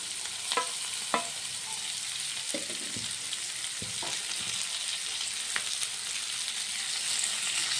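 Chopped tomatoes added to a hot pan of frying millet ragi upma, a steady close sizzle with a few sharp clacks of a spoon stirring.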